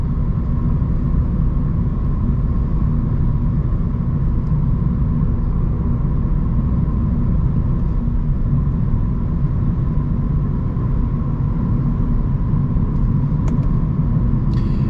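A Lexus IS500 F Sport V8 lopes along in eighth gear at a steady low rumble, loud and constant from inside the cabin with no talk.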